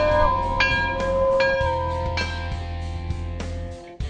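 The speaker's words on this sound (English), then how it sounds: "Everybody ring the bell." Bell tones ring out repeatedly at a truck dealership, several clear struck strikes with lingering overtones sounding loudly and alone, with no talk over them.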